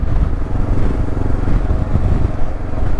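A Honda CB500X motorcycle engine drones steadily and loudly from the riding position, mixed with heavy wind rush and no speech.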